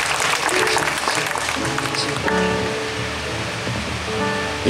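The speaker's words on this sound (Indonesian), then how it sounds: "Tepuk tangan untuk Gusmus." An audience at a birthday celebration for Gus Mus bursts into loud, dense applause that stays strong throughout, with a musical tone and murmur of voices mixed in underneath.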